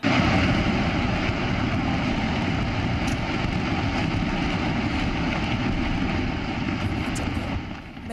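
A hillside collapses in a landslide in Bilaspur, Himachal Pradesh, producing a steady, loud, broad rumbling roar that continues unbroken for about eight seconds and eases only slightly near the end, with no voices.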